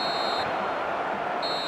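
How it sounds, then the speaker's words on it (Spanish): Referee's final whistle in the eFootball 2024 video game: a steady high whistle tone sounds at the start and again at the end, over a constant roar of stadium crowd noise. "Aquí está el pitido final."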